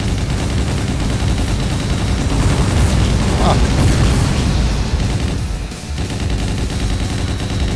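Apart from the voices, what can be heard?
explosions in video game Hyper Fighters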